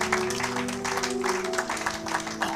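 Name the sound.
congregation applauding in church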